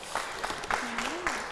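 Studio audience applauding on a Kyrgyz family game show semifinal, a brief steady patter of clapping with a host's voice and a faint sustained tone running over it.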